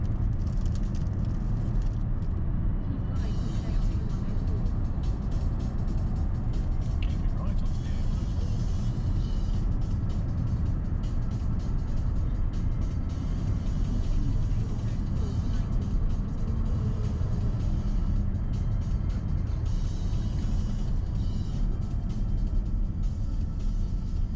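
Car driving on a motorway in France, a continuous low rumble of engine and tyre road noise, steady and unbroken throughout.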